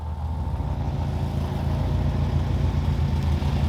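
Car engines drone in a steady low rumble during a memorial missing man lap, a continuous close vehicle sound with no talking over it.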